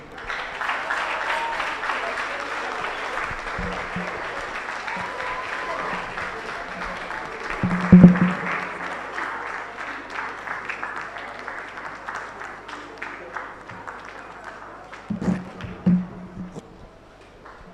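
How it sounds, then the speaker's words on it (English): An audience applauds at the close of a distinguished emeritus professor's lecture, steady sustained clapping across the hall with a couple of louder bursts partway through. "Please, let's keep clapping for him until he sits."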